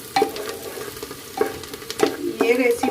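Onions fry in a pressure cooker for veg biryani, a close sizzle punctuated by several spoon stirs and scrapes against the metal at uneven intervals.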